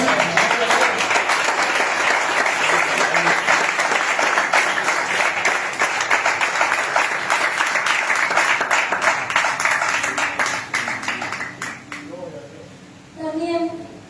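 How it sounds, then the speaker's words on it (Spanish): A church congregation gives loud, sustained applause for the Lord, dense clapping filling most of the stretch before tapering off near the end, with a brief voice rising at the close. "Denle fuertes aplausos al Señor"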